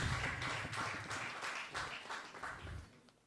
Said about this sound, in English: Another round of applause for Madam MFA.